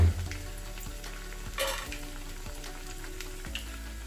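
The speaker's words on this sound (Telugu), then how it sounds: "ఇప్పుడు ఆయిల్లో వేసుకున్నాం కదా, మీడియం ఫ్లేమ్ మీద పెట్టి వేయించుకోవాలండి" Rice vadas deep-frying in oil over a medium flame give a steady, close sizzle and crackle with a brief louder burst partway through, no voices.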